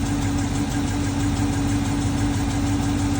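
A 6.4L HEMI engine idling with hydraulic lifter noise, heard as a loud, steady drone with a fast, even ticking running through it, alone and close.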